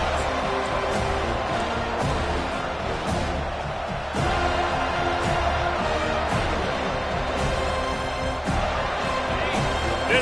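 A stadium crowd in a college football video game keeps up a steady roar at even loudness, with commentary talk running over it.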